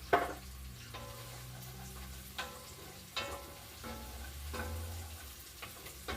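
Chopped garlic and browning onions frying in a pan for spaghetti sauce, a steady soft sizzle with a few stirring scrapes and clicks, fairly quiet, no talking.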